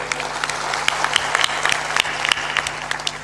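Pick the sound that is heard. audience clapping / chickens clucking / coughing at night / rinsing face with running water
audience clapping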